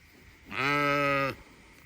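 A sheep on shearing day gives one loud, close, drawn-out bleat of about a second, standing alone against a quiet background.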